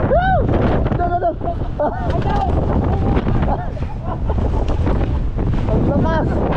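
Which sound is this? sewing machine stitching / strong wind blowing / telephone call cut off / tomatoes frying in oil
strong wind blowing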